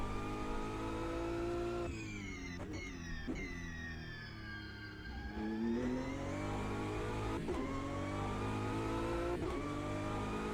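Multi-class race cars in the Automobilista 2 sim racing game at Le Mans' Circuit de la Sarthe drone and rev continuously, engine pitch rising and falling with sharp shift breaks as the cars pass.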